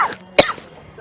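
A single sharp cough bursts out close by in a quiet indoor room, short and loud, trailing off briefly with no talking around it.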